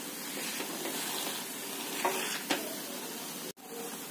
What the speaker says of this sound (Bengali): ঘি ছেড়েছে, ভালো করে মিক্স করে নেব